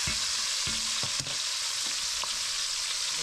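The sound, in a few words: tomatoes roasting and sizzling in a pan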